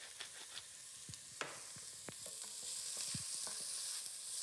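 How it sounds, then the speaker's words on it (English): Onions, celery and other vegetables sautéing in a pan with salt and freshly ground pepper: a soft steady sizzle that builds in intensity, punctuated by scattered clinks and scrapes of a utensil. "Now our vegetables are sauteing."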